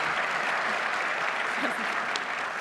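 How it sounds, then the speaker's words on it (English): Audience applauding panelists at an opening ceremony, dense steady clapping from a crowd filling the room throughout. "Let's give them a round of applause for taking time to come up here on the stage today"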